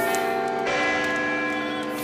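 A church bell rings loud and close, its sustained tones layered in a continuous chime with a fresh strike partway through.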